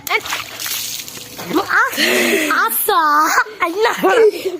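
Water sloshes and splashes as it is poured over people's heads, the wet bursts mixed in with lively voices of children and adults talking and chuckling close by.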